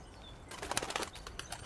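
A bird bursts into flight, a rapid flurry of wing flaps rising loudly after a quiet start and carrying on for about a second.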